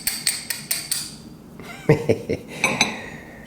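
A glass jar being handled, heard as a quick run of bright clinks and taps followed by a few heavier knocks and rattles, close and fairly loud.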